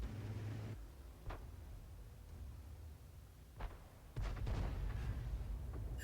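Artillery in a tank video game fires at tanks on a hill: a few distant, muffled booms spaced seconds apart, followed by a rumbling blast, over a low steady background hum.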